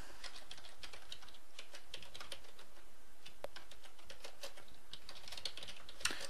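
Rapid typing of code on a computer keyboard, with dense, irregular key clicks and a few louder clacks, close and fairly quiet, with no voices.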